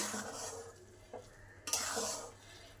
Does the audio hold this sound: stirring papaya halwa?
yes